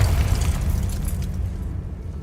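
A Confringo blast spell goes off in Hogwarts Legacy, a short, heavy boom with a deep rumble that fades quickly.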